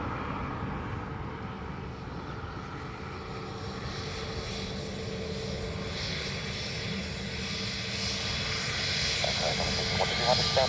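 Aircraft engines roar steadily at Dublin Airport during single-runway operations, a broad continuous drone that swells slightly louder toward the end, with faint voices mixed in.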